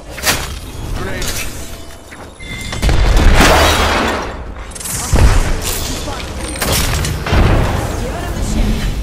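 Grenade blast in an Apex Legends-style battle royale shooter, a series of loud booming impacts and crackling debris bursts rolling over continuous chaotic combat noise, with a voice speaking in between.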